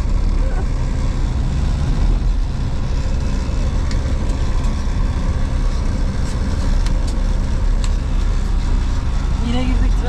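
Steady low road rumble and engine drone fill the cab of a moving truck hitchhiking along a road near Rasht, with occasional passing-vehicle swells; voices talk over it intermittently.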